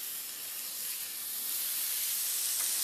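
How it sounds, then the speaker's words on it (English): Flank steak sears on a hot indoor grill over medium-high heat, giving off a loud, continuous hissing sizzle that swells slightly and stays steady, with no talking. "You can hear that sizzle."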